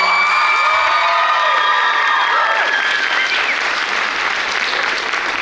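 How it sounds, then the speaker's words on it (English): A theatre audience at Proctor's applauds and cheers for the cast and crew of the musical SiX: loud, dense clapping with whoops and high shouts, sustained throughout at close range. "Please give them a round of applause."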